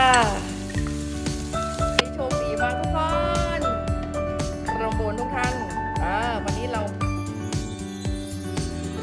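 Steady sizzling and frying of red chili in a hot pan with occasional stirring clinks, while someone talks over it and music plays along.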